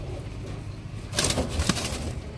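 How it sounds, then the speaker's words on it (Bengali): Fluttery pigeons from a loft, just released as a pair, give brief soft calls and wing flaps that swell midway over a low steady background. "দেখুন খুব ছটপটে পায়রা।"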